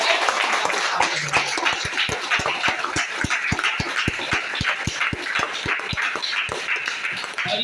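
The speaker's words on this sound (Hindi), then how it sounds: "तो आप लोगों के लिए एक बार जोरदार ताली" A network marketing training audience claps together in a steady, rhythmic beat, with sharp evenly spaced claps over a continuous wash of scattered applause. The sound is loud and sustained throughout, and no voice rises above it.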